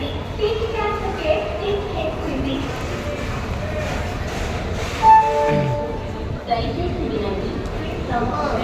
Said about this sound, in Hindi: ये ट्रेन है कोणार्क एक्सप्रेस।